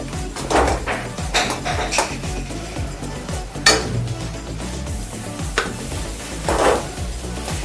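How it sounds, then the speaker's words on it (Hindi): Masala spice mix cooking in a pan for low-oil parwal kalonji, with a spoon scraping and stirring in irregular bursts, metal clinks against the pan over a soft background sizzle. "मसाला हम अच्छे से पका लेंगे।"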